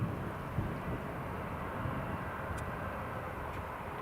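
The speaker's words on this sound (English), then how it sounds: "Yep, Eurowings is taxiing." A Eurowings airliner taxiing at Newcastle International Airport, a steady broad engine rumble and roar heard from a distance, continuous and unbroken without talk.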